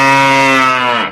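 A single loud cow moo rings out alone, a full, sustained bellow lasting about a second before tapering off.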